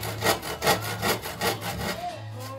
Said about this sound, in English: I'm holding the saw at sort of a normal angle